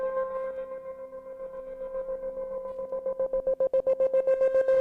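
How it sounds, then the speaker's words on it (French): Synthesized cymbal built in Ableton Live with a distortion effect, a sustained buzzing metallic tone with steady harmonics that turns into rapid pulsing stutters toward the end, heard alone. "Vous voyez, on entend la distorsion."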